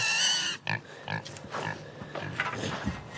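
Pigs on a farm grunt and oink in short, irregular bursts close by, with a rough low snuffling texture and no speech over them.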